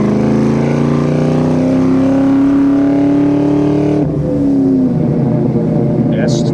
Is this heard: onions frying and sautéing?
no